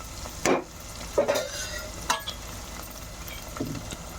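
Ginger garlic paste fries in a hot pan with a steady sizzle, and a spoon scrapes and stirs through it in a few short, close strokes.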